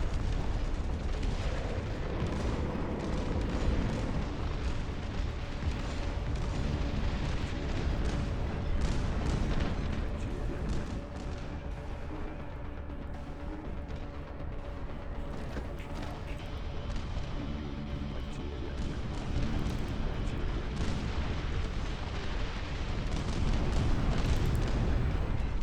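Howitzer artillery fire in the Dust Front RTS video game: heavy booms and rumbling blasts roll over a dense, continuous din of battle for the whole stretch, loud throughout with only a slight dip partway through.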